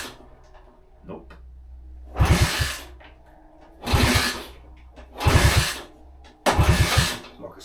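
A Honda C200 motorcycle, broken for 53 years, is kicked over with the choke on. Four loud chugging bursts come at roughly 1.5-second intervals, with the engine coughing each time but not catching.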